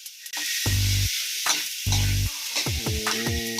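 Sautéing for ginataang kalabasa, a Filipino squash-and-coconut-milk dish, sizzles steadily in a pan, broken by a few loud low bumps and clatters of stirring or utensils against the pan.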